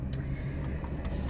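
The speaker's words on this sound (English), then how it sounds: "We're obviously in the car today." Steady low rumble of a car interior while driving, a constant road and engine drone with no talking over it.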